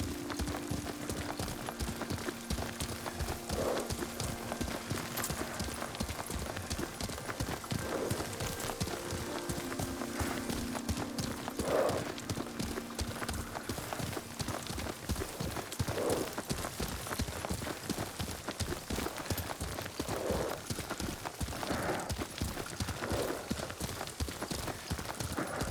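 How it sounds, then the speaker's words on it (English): Rhythmic hoofbeats of a galloping horse in the video game Ghost of Tsushima pound on continuously and evenly, with occasional faint tonal sounds in the background. "Lord Sakai taught me to ride a horse."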